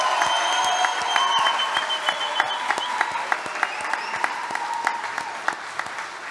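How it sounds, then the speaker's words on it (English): A quiz show audience at Eastgate Mall claps for the contestants in a steady round of applause, a moderately sized crowd heard from within the room, with no talking over it. "as loud as you can, a round of applause for all of our contestants"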